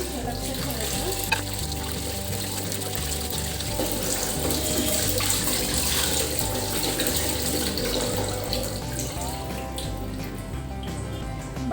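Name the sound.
washing mackerel fish in a vessel with running water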